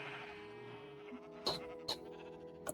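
Sheep bleat on a sheep farm in a video game, a few short wavering calls rising above a soft musical background, fairly quiet.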